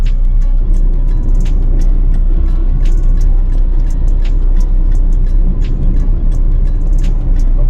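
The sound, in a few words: road traffic in a traffic jam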